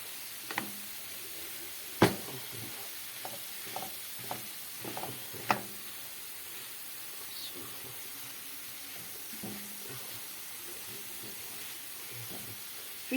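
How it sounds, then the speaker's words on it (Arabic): Minced meat with onions frying in a pan for béchamel pasta gives a steady soft sizzle and hiss, broken by occasional sharp clicks and stirring knocks. "بصوا سامعين صوت اللحمه؟"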